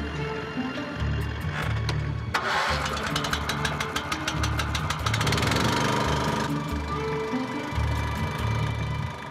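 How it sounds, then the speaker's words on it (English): A vehicle engine idles steadily at close range with a low rumbling pulse, joined midway by brighter mechanical noise, on a site where trucks carrying toxic fire ant treatment products are sent out. "Vehicles carrying toxic products are sent to the terrain."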